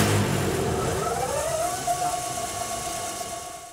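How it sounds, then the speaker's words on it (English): A synchronous motor starts badly with poor torque, heavy inrush current and shaking, giving a loud, rough droning hum with a rising whine over a low rumble. "the motor exerting poor starting torque, drawing massive amounts of inrush and shaking"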